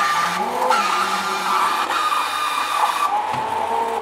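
A food processor or grinder whirs loudly and steadily as cashews are ground into a puree for chicken korma, a continuous close mechanical grinding with slight shifts in pitch and no talking.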